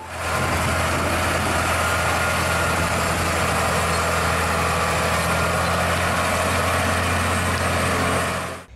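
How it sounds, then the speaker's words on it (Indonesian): A toy trailer truck hums with a steady, idling engine-like drone, loud and unbroken for several seconds before cutting off at the end, with no voices over it. "Di sini ada mobil truk gandeng."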